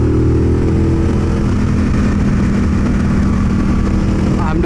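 A 2017 Triumph Bonneville Bobber cruises on a highway, its engine a loud, steady, low rumble under constant roaring wind buffeting from riding at speed.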